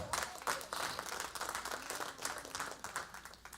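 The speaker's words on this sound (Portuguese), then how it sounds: "Aplauda Ele." A church congregation claps during a sermon, steady many-handed applause with uneven pulses of louder claps, fairly soft and heard from a little distance.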